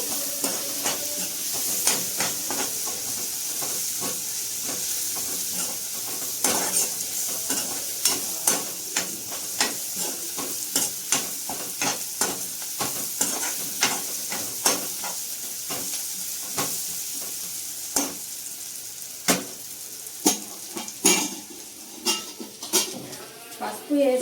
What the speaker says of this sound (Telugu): నేను ఆనియన్ కొద్దిగా వేగిన తర్వాత పసుపు గుడుక ఇందులోనే యాడ్ చేస్తున్నాను